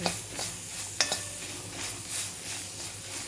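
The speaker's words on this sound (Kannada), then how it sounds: "ಮೆಂತ್ಯ ಸೊಪ್ಪು ಒಂದೆರಡು ಮೂರು ಕಡ್ಡಿ ಹಾಕ್ತೀನಿ, ಹುರ್ಕೊತಿದ್ದೀನಿ" Fresh fenugreek leaves sizzle steadily in a hot pan while a spoon stirs and scrapes through them, with a couple of sharp clinks against the pan near the start.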